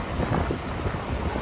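Wind gusts across a microphone on a Midtown Manhattan street at night, a steady broadband rush with low buffeting and no voices.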